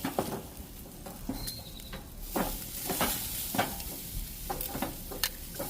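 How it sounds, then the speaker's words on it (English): A T-bone steak sizzles on a gas grill after being flipped, a soft crackling sizzle with scattered scraping and tapping sounds, fairly quiet and close. "Let's give this guy a flip."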